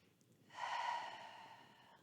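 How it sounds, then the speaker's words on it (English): One open-mouthed exhale during a yoga core session, a soft breathy sigh that swells and then slowly fades, close and alone. "Your exhales now could be like open mouth exhales"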